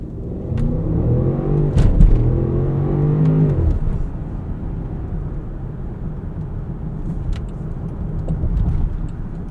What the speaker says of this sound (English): Much more aggressive throttle response in dynamic mode.